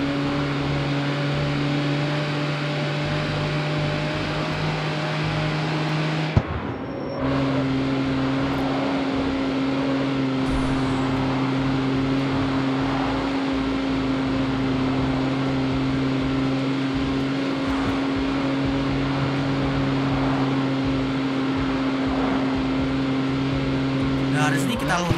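Retro everyday car engine in CarX Street, a steady mid-pitched drone at constant revs, briefly cutting out then resuming and running continuously to the end.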